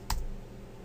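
A single crisp press of the delete key on a computer keyboard lands close and sharp at the start, then fades into a quiet room hum with no speech.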